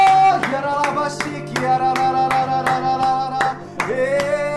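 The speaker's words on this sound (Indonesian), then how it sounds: "Mari kita beri tepuk tangan yang meriah untuk Tuhan kita" Rhythmic clapping from a church congregation at a Sunday service, sharp regular hand claps about twice a second over sustained music and singing, fairly close and loud.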